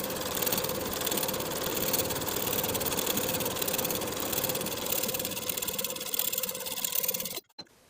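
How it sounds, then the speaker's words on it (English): A sewing machine runs steadily while top stitching a 1/4 inch seam along the side panel of kite pants, a continuous close mechanical whir that holds for several seconds before cutting off abruptly near the end. "we're going to top stitch with a 1/4 inch seam allowance"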